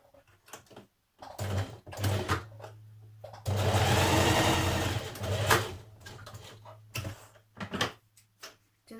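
A sewing machine stitches a cardigan shoulder seam, its motor whirring in short bursts and one longer steady run, with light clicks and handling noises between, close and moderately loud.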